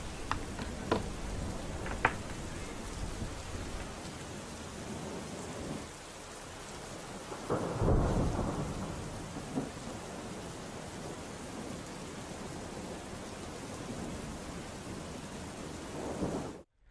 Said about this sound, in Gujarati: ધોધમાર વરસાદ વરસ્યો હતો